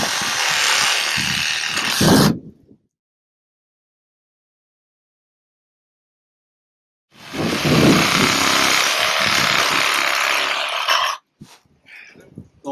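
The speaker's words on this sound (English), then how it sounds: "Got my 18 volt power tool, right?" Cordless 18 volt power tool cutting through sprinkler lines, two loud buzzing bursts of a few seconds each separated by silence, the second followed by brief sputters.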